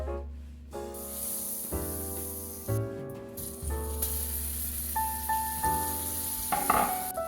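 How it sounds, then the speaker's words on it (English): An A5 Japanese Wagyu steak searing in butter in a cast iron pan gives a steady, close sizzle and hiss, with a few louder crackling spurts and a brief metallic scrape throughout. "We want to cook this steak in a cast iron with a little bit of butter."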